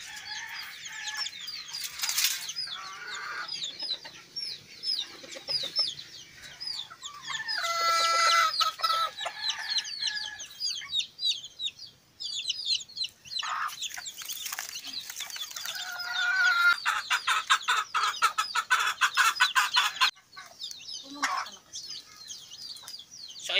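A hen clucks steadily among her nine chicks on a rural farm, while the chicks keep up a shrill, busy peeping close by. Loud, dense bursts of chirping rise and fall, with short pauses between them.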